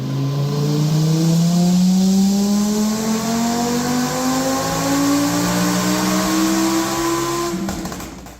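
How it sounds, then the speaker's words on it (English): A tuned Nissan GT-R at the Nürburgring, its engine droning loudly with a rising pitch as turbo spool whines, sustained and close throughout with no talk. "You can hear the sound of the turbo spool from a mile away."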